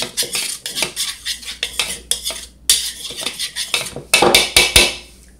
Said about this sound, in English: I usually have a whisk, and I would just mix it up. Whisk it usually.